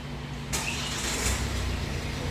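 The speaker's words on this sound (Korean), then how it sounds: "자, 엔진 소리가 들리시죠?" A Hyundai Tucson 1.7 diesel with around 50,000 km fires up from cold and settles into a steady, loud idle, a broad clattering rumble that starts abruptly and continues without any talk.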